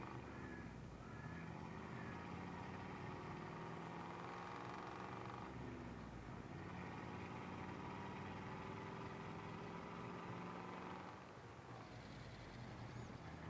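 A Ford truck engine idles in a 1980s-era Farming Simulator game, giving a faint, low, steady hum that holds without pause and has no talk over it.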